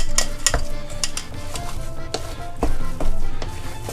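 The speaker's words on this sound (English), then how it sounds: "Now I'm just going to stir the heck out of that while that cheese kind of melts into these potatoes." Spoon stirring Gouda cheese into mashed potatoes for pierogi filling in a pot, with repeated knocks and scrapes against the pan in an irregular rhythm, close and fairly loud, with no talking.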